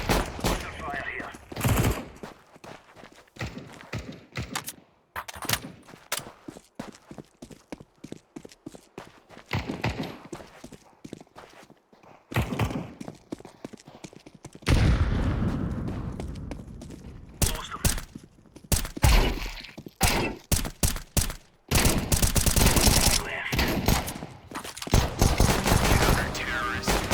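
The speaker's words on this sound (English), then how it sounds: "Under fire here." Gunfire in a shooter video game, with repeated sharp bursts and rapid automatic volleys that come in uneven clusters, loud and close, and grow denser and more sustained toward the end.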